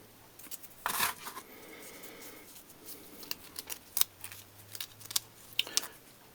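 Scissors snip through a wooden craft stick, a few crisp clipping cracks and small taps scattered at close range on a quiet workbench.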